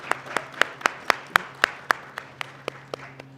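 Slow, sparse clapping at a university graduation celebration, roughly a dozen distinct claps at an even pace from just a few hands, over a low steady hum.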